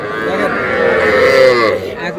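Cattle moo loudly and close at a village cattle market selling young bulls and heifers, one long drawn-out call with a faint voice in the background.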